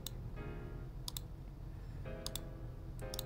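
Repeated wheel-ticket clicks in the mobile game One Punch Man Road To Hero 2.0, sharp ticks in small pairs and clusters over a steady low game hum, moderately loud and close.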